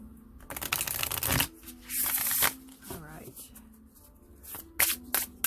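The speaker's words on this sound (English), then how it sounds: "Give a shuffle real quick." Cards riffle and shuffle in several quick bursts, close and crisp, with brief pauses between them and a soft voice murmuring faintly in the background.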